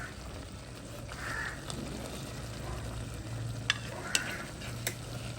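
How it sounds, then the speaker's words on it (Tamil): Meat frying over a low flame, stirred in a pan with a steady soft sizzle and a few sharp clinks of the utensil against the pan. "இனி நாங்கள் நல்லா கிளறி போட்டு எரிஞ்சும் எரியாத மாதிரி விடணும்."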